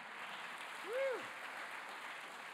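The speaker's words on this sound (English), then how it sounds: "Let's just give the Lord another clap offering." A church congregation at a spring conference claps together, a faint, steady patter of applause in a large room. A brief voice rises briefly over it.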